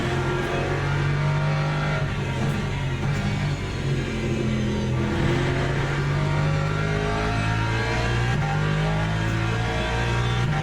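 Race car engine droning steadily under throttle in a racing video game at a Le Mans special event, a loud, continuous tone that shifts pitch slightly as the car works through corners, with no voices over it.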